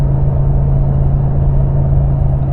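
Ford F-250 truck engine pulling under load in 6th gear at around 70 mph with light throttle, a steady low droning rumble with a strong constant tone, loud and unbroken throughout.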